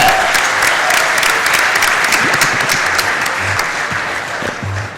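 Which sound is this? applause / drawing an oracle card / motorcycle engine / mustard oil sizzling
applause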